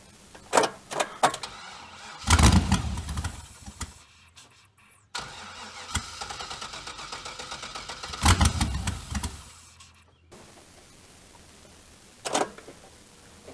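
An LS-swapped BMW E39 engine cranks and catches in repeated loud bursts, revving up and settling into a rough idle between starts, recorded up close with no talking.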